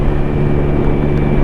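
A Sinnis Apache SMR motorcycle engine runs at low revs while the bike cruises around town, a loud, steady, droning rumble with no voices over it.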